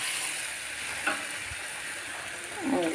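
Mola fish chorchori with garlic sizzles steadily in a pan while being stirred, a close, continuous frying hiss with a few soft scraping strokes toward the end.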